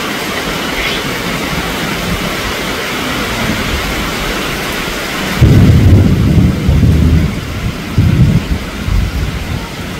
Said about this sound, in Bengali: আপনাদের একটু বৃষ্টিটা দেখাই। অনেক বৃষ্টি নামছে।